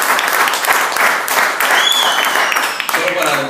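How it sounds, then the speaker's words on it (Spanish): A church congregation bursts into loud, sustained applause for the Lord during a sermon, many hands clapping nearby while voices call out over it. "darle un aplauso al Señor"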